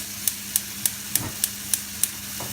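Onions and green chilies sizzle in hot oil in a pan, giving a steady background hiss broken by sharp, evenly spaced clicks roughly every quarter second, with no talking.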